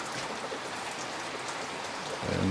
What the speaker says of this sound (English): It rains, and it rains hard.